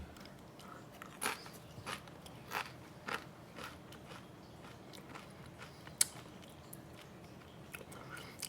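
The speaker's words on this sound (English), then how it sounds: "Now I'm going to try the Shishito pepper." Someone bites into a Shishito pepper and keeps chewing, making a series of soft crunchy bites in an irregular rhythm, close up and fairly quiet.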